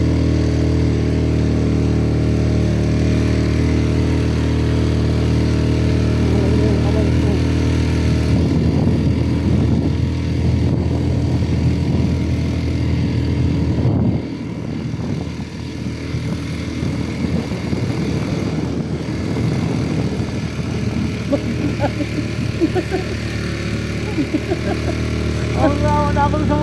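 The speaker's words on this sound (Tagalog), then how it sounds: "Dito ay halos gumagapang na lang talaga ang motor ko pero pilit na lumalaban pa" Motorcycle engine straining up a steep incline on Marinduque, a loud low droning labor that holds steady and dips briefly midway, with voices faintly over it.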